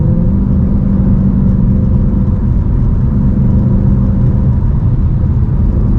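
A car sliding around the corners of nice back roads, its engine a steady, loud mid-pitched rumble and whir that holds close and constant throughout without a break.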